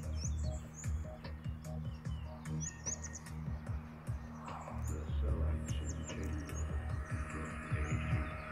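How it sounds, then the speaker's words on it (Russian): Small birds chirp and tweet in quick, scattered bursts from a mango tree outdoors, lively high calls layered over a steady low background hum with occasional faint voices. "Гляньте, эти птички, гляньте."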